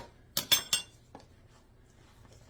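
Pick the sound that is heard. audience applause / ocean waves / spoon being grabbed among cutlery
spoon being grabbed among cutlery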